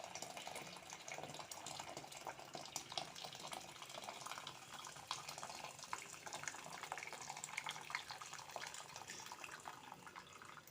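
Four tumblers of water are poured into two tumblers of rice with baby potatoes in a cooker, a faint, steady splashing trickle lasting throughout with no voices.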